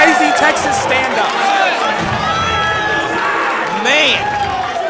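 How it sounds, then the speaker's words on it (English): A loud crowd roars and cheers continuously at a Super Smash Bros. Ultimate tournament, Low Tide City 2023 in Texas, with excited commentary and shouting layered over the noise. "This crowd is going crazy."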